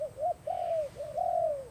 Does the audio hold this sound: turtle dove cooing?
yes